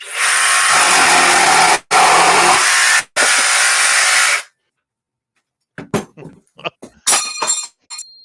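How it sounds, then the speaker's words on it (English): A loud power tool runs in three long bursts with short gaps and then stops. After a pause a Flex multi-tool drops and pings off the ground in several sharp, scattered metallic clinks. "your tool makes a pinging noise when it hits the ground"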